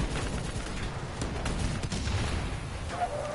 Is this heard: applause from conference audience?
no